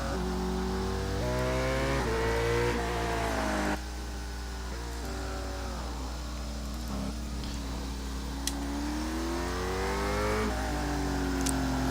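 Engine of a Chevrolet Corvette C7 race car in the iRacing sim, revving up and down through repeated gear changes with a rising, falling harmonic whine, continuous and loud throughout.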